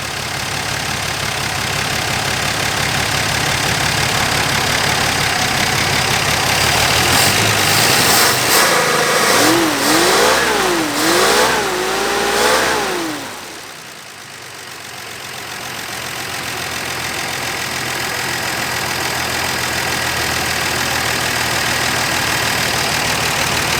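A loud Dodge Dart Swinger engine idles steadily, then revs up and down several times before dropping back to a rough idle.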